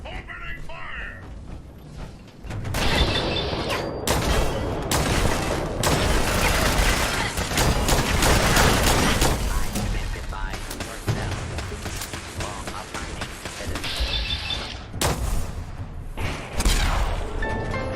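Bursts of gunfire and heavy thuds from Fallout 4's Far Harbor play in dense, loud clusters over busy mechanical game noise. A robotic voice speaks at points between the shots.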